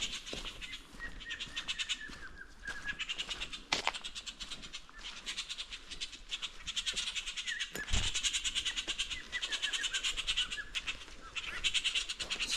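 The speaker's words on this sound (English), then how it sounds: "birds are fighting right here." Wild birds scuffle and harass an owl along a forest greenbelt trail in Eagle River, Alaska, giving bursts of wing flapping and sharp chirps, fairly near and continuous, with no talk.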